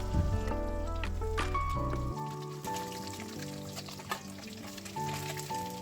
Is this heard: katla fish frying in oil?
yes